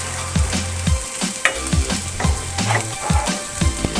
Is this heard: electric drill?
no